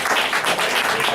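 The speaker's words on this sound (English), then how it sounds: "Can you give yourselves a round of applause?" Audience applause at a poetry cafe: a short, dense burst of many hands clapping, close and steady for about a second.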